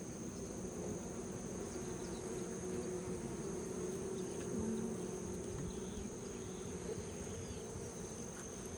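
Honeybees at an open hive in Hawaii fill the air with a dense, continuous low buzz, steady and close throughout with no talking.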